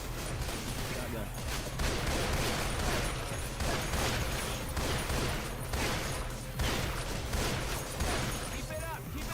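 Shotgun blasts in Left 4 Dead 2 mixed into dense, loud game combat, with a steady run of gunfire bursts and chaotic action under excited talk.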